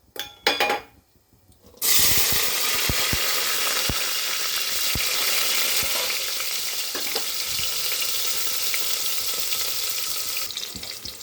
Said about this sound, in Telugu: ఆయిల్ వేడయ్యాక ఉల్లిపాయలు, పచ్చిమిర్చి, కరివేపాకు, ఆల్ స్పైసెస్ అండి, చెక్క, లవంగ, ఇలాచి అన్నీ కలిపి ఒకేసారి ఇందులో కుక్కర్లో వేసేద్దాం.